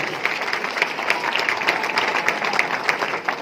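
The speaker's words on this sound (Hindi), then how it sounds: "एक बार मैं चाहूंगा उनके लिए जोरदार तालियां हो जाए" Dense applause from a crowd at a speech event, steady and fairly loud throughout, with many overlapping claps.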